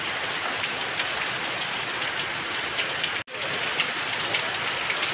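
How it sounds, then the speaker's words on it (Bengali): Heavy rain pours down in a dense, steady roar of drops hitting the surfaces nearby, with one momentary break and no voices. "জোরে বৃষ্টি নেমে গেছে"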